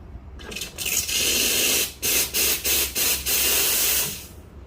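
An espresso machine's steam wand is purged in a series of loud, close hissing blasts of steam, several short bursts broken by brief pauses before a longer final spray.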